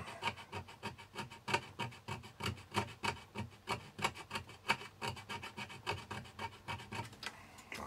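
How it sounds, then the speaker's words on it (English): A metal tool rasps across the back casing of a potentiometer in a Dansette Automix amplifier under repair, giving steady repeated scraping strokes, close and fairly loud, with no talk. "We'll give the back of the pot a bit of a scrape up."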